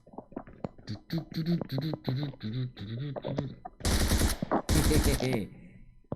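A voice rhythmically imitates gunfire with repeated syllables, followed by two loud bursts of rapid automatic gunfire in PUBG Mobile.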